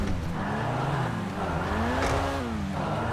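Engine roar and tyre noise from a fast car in a GTA 5 parkour race, a steady loud drone with rising and falling pitch and brief squeals, no talk heard.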